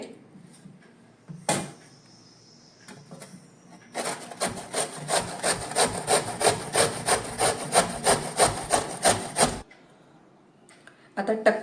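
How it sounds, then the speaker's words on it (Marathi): Raw green mango being grated on the coarse side of a hand grater, a fast run of rhythmic rasping strokes lasting several seconds, close and fairly loud, with a few clicks and handling sounds before and after. "ही आता मी किशणीवरती किसून घेणार आहे"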